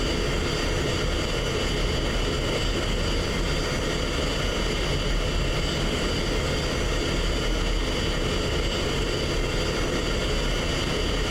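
An F-16 taxis in the DCS flight simulator, its jet engine a constant loud roaring drone with a steady whine on top. It holds unchanged throughout with no voices.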